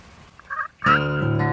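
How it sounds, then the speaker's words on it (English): Wild turkeys gobble outdoors in spring turkey season, a faint distant call followed by a loud, close, rattling gobble that carries on for about half a second. "when I hear them gobbling around me"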